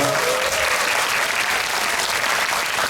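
Audience applauding at the close of a talk event, a full, loud wash of crowd clapping that starts right after a short spoken word and holds steady to the end.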